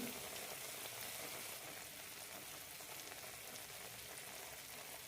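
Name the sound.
kannoorappam (sweet snack) frying in oil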